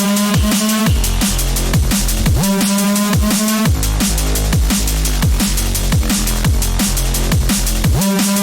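Heavy tearing Reese bass synth in mono, backed by a punchy drum pattern with steady kicks and snares, loud and continuous with a repeating rhythmic groove.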